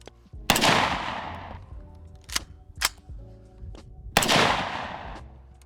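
Three loud rifle shots from an FRT-equipped carbine ring out near and sharp, each with a long decaying echo, separated by several quieter mechanical clicks and clacks where light primer strikes fail to fire.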